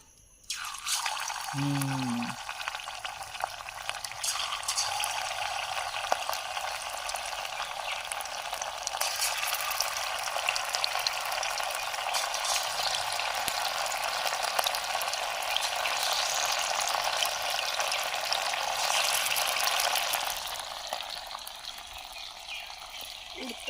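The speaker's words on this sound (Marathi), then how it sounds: "डीप फ्राय करायचं आहे चला तर एक एक पीस टाकूया आता तेलात" Pieces of tamboshi fish drop into hot oil for deep frying at an outdoor cooking spot in a Konkan forest. After a brief bump, a dense, even, close-up sizzle holds for about twenty seconds before easing, with no speech.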